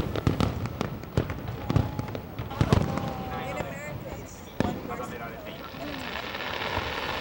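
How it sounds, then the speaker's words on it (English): Fireworks opening the Sendai Tanabata Festival in Japan, watched from a downtown office building: repeated sharp bangs and pops, then whistling rising streaks and crackle, with people talking over the show. "we got to view the fireworks that kicked off Sendai's famous Tanabata Festival from a downtown office building"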